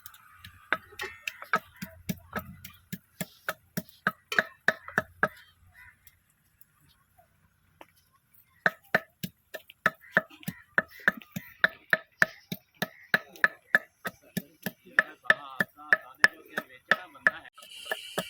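Garlic and ginger being pounded by hand, sharp rhythmic thuds at a steady beat in two runs separated by a brief pause, close and crisp.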